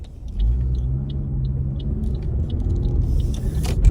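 A car driving, with a low steady engine and road rumble heard from inside the cabin, continuous and close, with a few faint clicks and no talk.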